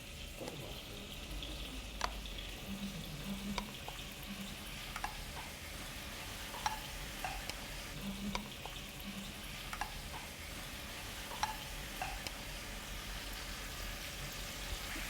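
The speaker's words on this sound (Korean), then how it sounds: "김치도 볶음 주걱으로 밀어내 냄비에 넣어주세요." Kimchi pushed off a spatula into a pot for kimchi stew, frying with a steady low sizzle throughout and a few faint scraping clicks and knocks scattered across the clip.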